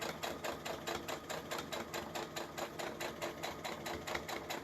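Domestic sewing machine stitching natural fabric for a cushion cover at a long stitch length, a steady fast rhythmic clatter of the needle running without pause, fairly quiet and heard alone.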